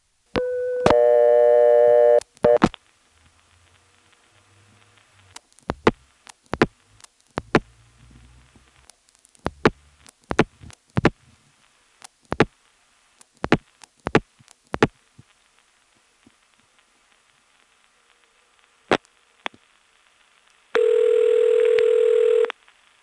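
A 1977 long-distance call routed through an NX1 step-by-step telephone exchange in Farmville, North Carolina: a steady tone opens, then scattered sharp mechanical switching clicks, and a loud tone returns near the end.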